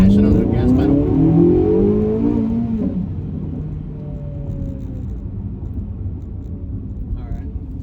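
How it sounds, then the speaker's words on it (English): A car engine fitted with a Soler Performance electronic throttle controller is revved hard, a loud rising roar for a few seconds that then eases into a lower steady rumble, heard close up. "the response of the engine to me mashing on the gas pedal."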